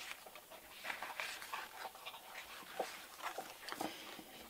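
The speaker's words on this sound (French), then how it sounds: "C'est ma chienne qui est en train de manger un bouchon." A pet dog chews and gnaws on a cork, giving quiet, irregular crunching and scraping bursts close by with no voices.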